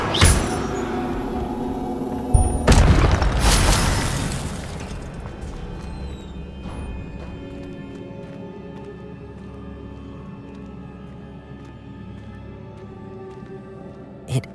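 An Incendio fire spell goes off in Hogwarts Legacy: a sharp, loud burst at the start, then a bigger double blast a few seconds later that roars and slowly fades into a long, quiet tail.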